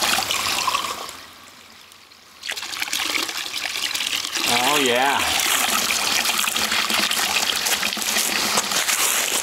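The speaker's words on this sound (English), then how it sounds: "Got some clean sewage water running here." Spring water pours steadily into a stream beside a Japanese path, a loud continuous rushing trickle close by that fills the whole stretch after a brief quieter dip, with someone briefly speaking over it.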